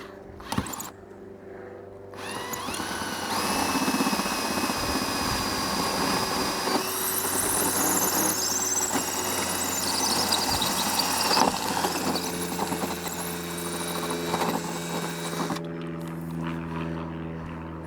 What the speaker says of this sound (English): Let's drill a hole through this roof.